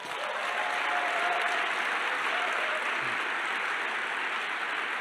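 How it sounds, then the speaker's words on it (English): A large audience at an inspirational gathering applauds in a dense, sustained wash of clapping that holds steady and loud throughout, with faint voices mixed in. "Give your dream a round of applause."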